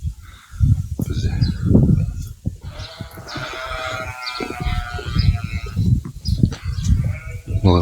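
Sheep bleat loudly and repeatedly at close range, several animals calling over one another in a pen where no hay has been put out.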